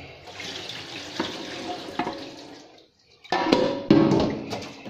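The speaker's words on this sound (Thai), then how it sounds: "บัดนี้ก็สิล้างอีกน้ำนึง" Rice being washed in water by hand for sweet fermented rice, with sloshing, swishing water and clattering grains in a bowl, close, pausing briefly before louder splashing resumes, no talk.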